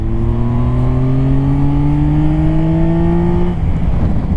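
A Yamaha Tracer 9 GT motorcycle with Y-AMT gearbox revving high, a strong whining engine tone climbing steadily for three and a half seconds before cutting off into wind and road noise.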